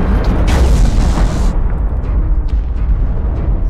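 A destroyed mech blows apart in MechWarrior Online, a loud, close rumbling boom that roars for over a second, then fades into a low, lingering rumble.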